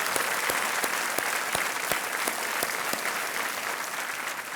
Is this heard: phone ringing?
no